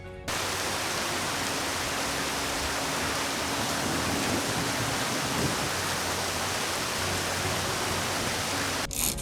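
Steady rain falls on a residential lawn and street, a dense even hiss that holds constant for about nine seconds, loud and close with no voices.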